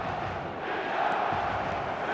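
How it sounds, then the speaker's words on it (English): Virtual stadium crowd in an eFootball match gives a steady, dense roar of applause and cheering that swells slightly midway and fills the whole moment. "Oh, not this time, but a lot of applause for the thought."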